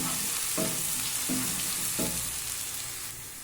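Onions fry in hot oil in a pan for a green peas kurma, giving a steady bright sizzle. Three soft stirring scrapes come at regular intervals.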